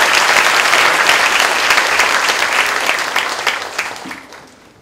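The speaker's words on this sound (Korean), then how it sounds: "힘찬 박수로 함께 해주시기 바랍니다." An audience at a corporate recruitment briefing gives loud, dense applause for a company HR representative, steady for about four seconds before tapering off quickly.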